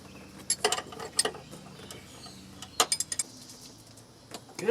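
A 14 mm wrench tightens the bottom fitting on a car fuel filter, with a few faint, sharp metallic clicks and taps spaced apart against quiet background, close by.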